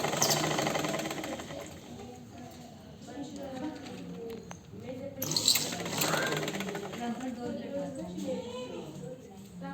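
A sewing machine stitches a folded neck piece in a steady rapid whir, heard under someone talking throughout, close and moderately quiet.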